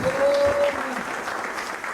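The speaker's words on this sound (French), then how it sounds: "Est-ce que tu peux acclamer pour la parole du Seigneur?" Congregation clapping during a French-language church service: a dense burst of applause that swells briefly, then holds at a steady level, with a voice faintly present beneath it.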